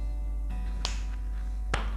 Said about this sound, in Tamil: ஒருத்தர் இப்படி சொடக்கு போட்டு கூப்பிட்டாருன்னா எப்படி சொல்லுவீங்க?